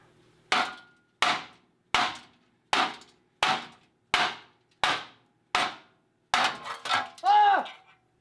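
Eight sharp hammer blows on a wrecked Honda Accord land at an even pace, close and loud, followed by a splintering crack and a short squeal of something giving way.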